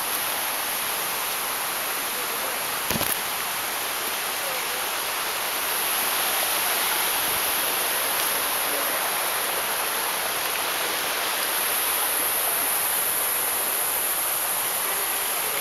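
A red-tinged waterfall in the Amazon rainforest of Ecuador pours with a constant broadband rush, steady and close, its roar filling the scene without breaks.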